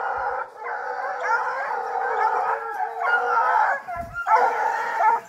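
Several dogs bark and howl together in a loud, continuous chorus, yips and drawn-out howls overlapping with brief pauses, during a hunt for pigs.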